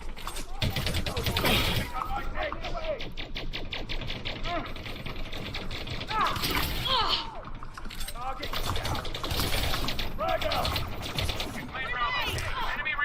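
Rapid, dense gunfire crackles through a ground firefight in Elite: Dangerous Odyssey, with short bursts and scattered booms, including a grenade blast. Speech runs over the shooting throughout, which stays steady and close.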